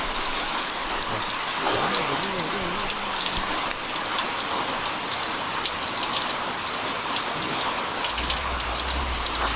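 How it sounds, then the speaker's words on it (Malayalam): Heavy downpour beside a swollen, overflowing river, a constant dense roar of rain on surfaces throughout, with a brief muffled voice partway through. "മഴ എന്ന് പറഞ്ഞ പോരാ ഒരു രക്ഷയില്ലാത്ത മഴയാണ്"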